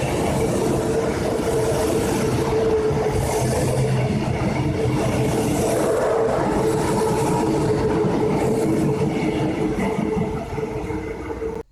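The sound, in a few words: southbound ICE train passing at Virginia station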